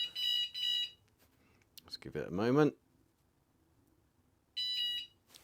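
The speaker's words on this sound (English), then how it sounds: "To arm the alarm, you simply push the lock button on top." A VanGuardian van alarm sounds as it arms after the lock button is pressed, giving two short bursts of shrill electronic beeping, a pause in which someone briefly speaks, then another short pair of beeps.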